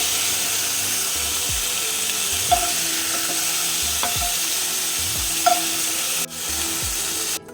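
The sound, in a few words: chicken frying in oil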